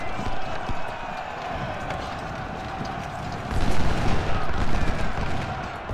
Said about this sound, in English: how many cannon volleys are these gonna take?